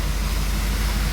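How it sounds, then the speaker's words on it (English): A waterfall spills into a small ditch beside a mountain trail on Engineer Pass in Colorado, giving a steady, dense rushing roar that stays constant and fairly loud throughout, with no voices. "In the middle of the trail, in a little ditch, and you get waterfalls."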